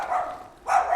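Dogs bark angrily near a hill road between Lake Como and the Alps, two short harsh barks about half a second apart, fairly close.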